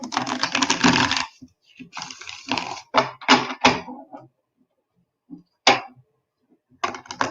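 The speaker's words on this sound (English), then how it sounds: "So I just did 3 shuffles, Gail" A deck of cards is shuffled by hand in several quick bursts of crisp riffling and flicking, separated by short pauses, close and clear with no talk.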